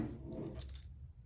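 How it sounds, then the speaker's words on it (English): Truck or car keys jangle in a short, faint metallic burst of clinks against a quiet low background. "your truck keys, your car keys, whatever"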